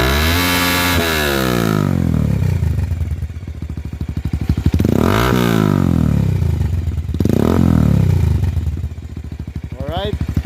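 Bajaj Rouser 180 motorcycle fitted with an Akrapovic M1 exhaust and no silencer, revved loudly up to full revs several times in close succession, each blip rising sharply in pitch and then falling back to a rough idle.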